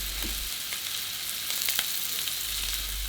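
A rack of lamb roasts in hot oil spread across the bottom of a pan, giving a constant, close sizzle and crackle with a few sharper spits rising from the hiss, and no voices.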